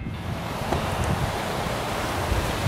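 Gufufoss waterfall beside a road in East Iceland, a steady broadband roar of falling water that holds constant and fairly loud throughout with no voices.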